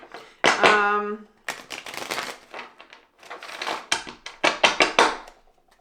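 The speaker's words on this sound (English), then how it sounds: "I'll just give it one more quick shuffle here." A deck of tarot cards is shuffled several times in quick bursts, crisp riffles and taps close by, with brief pauses between.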